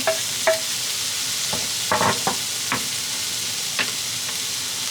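A few scattered bursts of frying crackle and brief sizzles as onion sautés in oil in a frying pan, over a steady low hiss, fairly close and moderate in level.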